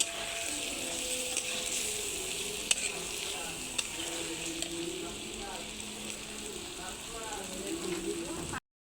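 Green chilies and tomatoes sizzle steadily in a hot pan, a continuous close frying hiss with scattered crackles and a few stirring knocks, until it cuts off abruptly.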